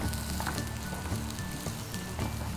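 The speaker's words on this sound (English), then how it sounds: "Now you saute this for 5 minutes." Vegetables sautéing in a pan for Indo-Chinese sesame honey rice balls, a dense close sizzle with light crackling and a few stirring taps, no voices.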